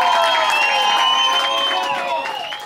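Studio audience applauding and cheering on a comedy music show, a steady wash of claps with whoops and a held musical tone over it, gradually fading.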